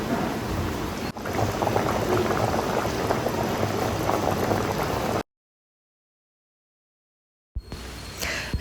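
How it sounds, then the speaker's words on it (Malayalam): A sardine fish curry bubbles in a pot, a dense, steady simmering hiss close by for about five seconds, then a break in sound before the boiling resumes near the end. "അപ്പൊ നമ്മുടെ കറി ഇവിടെ തിളച്ച് തുടങ്ങിയിട്ടുണ്ട്"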